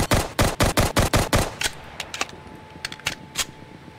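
An M1911 pistol in a video game fires about eight sharp, evenly spaced shots in quick succession, then a run of fainter clicks and lighter metallic taps, all close and without talk.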